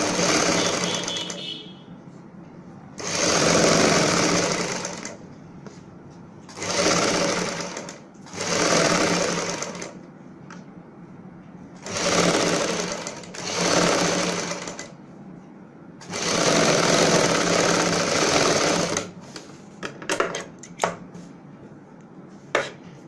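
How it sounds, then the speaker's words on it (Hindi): Sewing machine stitching along buckram on a kameez, six rapid mechanical runs of several seconds each separated by pauses, then a few faint clicks, close and clear with no talking. "अब हम बुकरम के साथ साथ सिलाई लगाएंगे।"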